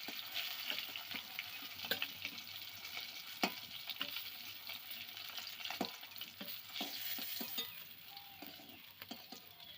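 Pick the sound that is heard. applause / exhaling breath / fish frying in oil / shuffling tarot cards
fish frying in oil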